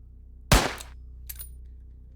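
A single sharp gunshot rings out in the survival game Cataclysm: Dark Days Ahead, loud and close with a short decaying tail, followed by a fainter, brief crack moments later over a low steady hum.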